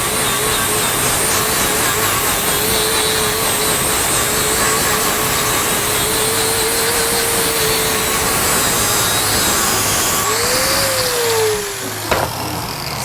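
Power saw blade grinding through a metal rod for fireplace wall art, a loud continuous whine and rasp held for about ten seconds. The pitch then swoops as the cut ends and the blade spins down.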